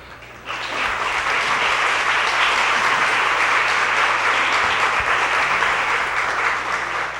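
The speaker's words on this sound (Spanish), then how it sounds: "les brindo un fuerte aplauso." Loud sustained audience applause at a panel forum on hunger and the right to food in Central America, starting abruptly and holding as a dense, even wash of clapping hands.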